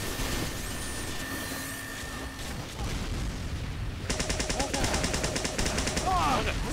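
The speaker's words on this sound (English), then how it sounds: "Oh, this gun sucks. It's a paintball gun, I think." Rapid automatic gunfire in the game Team Fortress 2, a dense rattling stream of shots that starts partway through and continues loudly to the end, following quieter game noise.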